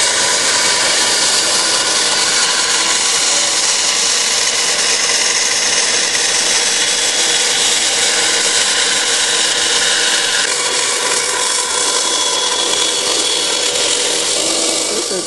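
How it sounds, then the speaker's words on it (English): A bandsaw cuts out a wooden piece for an art tool caddy, giving a loud, steady, unbroken whine and rasp of blade through wood that carries on throughout with no talking. "cutting it out on the bandsaw"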